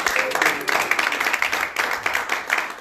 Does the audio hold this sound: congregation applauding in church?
yes